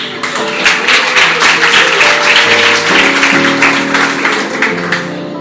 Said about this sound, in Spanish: Un aplauso para Estela.